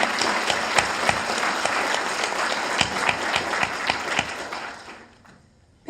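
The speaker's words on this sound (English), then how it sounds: "Huge round of applause for Jay." Audience applause fills a hall after a speaker's talk at a science communication contest final, a dense steady roar of clapping that fades out over the last second.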